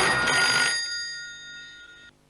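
A telephone bell rings loudly for a moment during a call, then its bright tones fade away in a lingering decay until it cuts off; no voices.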